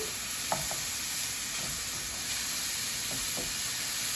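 Meat searing in a hot pan as a hummus topping, a loud continuous hiss and sizzle close up, broken by a few soft knocks of a utensil against the pan, with no talking.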